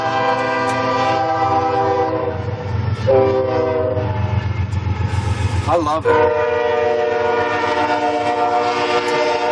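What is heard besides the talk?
freight train passing campground at night, horn blowing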